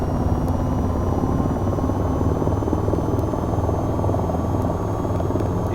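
Engine of an AH-94 helicopter throttling up in the flight game VTOL VR, a steady loud rotor and turbine drone with a constant high whine and faint periodic ticks, continuous throughout.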